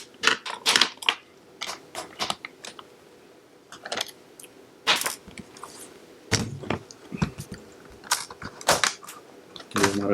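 A laptop keyboard is pried out during a repair: sharp plastic clicks, snaps and scraping taps come in irregular bursts at close range, separated by short quiet gaps, with no talk.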